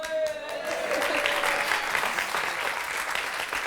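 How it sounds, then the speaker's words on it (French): Studio audience applauding during a TV game show, a full, steady roar of many clapping hands that holds throughout, with a voice briefly heard at the start. "j'ai entendu les applaudissements"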